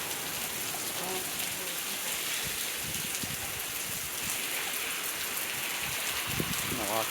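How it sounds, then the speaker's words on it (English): Rain falling beyond an overhang at the front office of a hurricane-damaged beach hotel, a steady hiss of drops and spatter with occasional nearby drips and faint movement. "The rain doesn't look like it's gonna last long."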